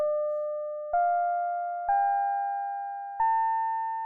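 Four sustained FM synthesis tones from SuperCollider at default settings, each note stepping slightly higher in pitch with a soft click at every change, steady and clean with no talking.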